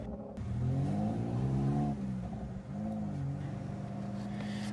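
Mitsubishi 3000GT engine revving after throttle body work, a deep rumbling idle with two rising throttle sweeps, fairly close and steady, no talking.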